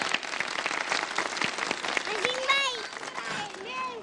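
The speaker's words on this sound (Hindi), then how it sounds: "तालियां बजा दे।" Studio audience applause on a Ramadan iftar kids' show, broad clapping throughout with a voice speaking over it near the end.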